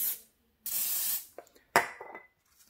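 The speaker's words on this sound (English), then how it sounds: "We're going to go ahead and give it a little spray." Cooking spray hisses onto a hot waffle iron in one long burst, followed by a shorter puff and a few light metallic clicks and clinks as the iron is handled.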